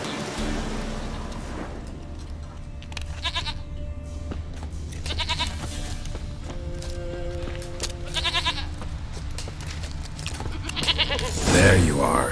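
Goat bleating in the video game The Witcher 3, several short wavering bleats recurring at intervals over a low ambient rumble, with a voice talking in between.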